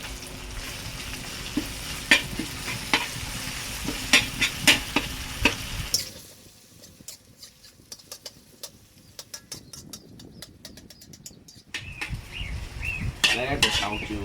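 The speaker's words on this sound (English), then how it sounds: "Let the tau chiong go inside, fry also." Tau chiong, fermented soybean paste, stir-frying in a pan for vegetarian mala noodles: loud crackling sizzle with utensil scrapes that drops away for several seconds, then resumes with renewed sizzling and clatter.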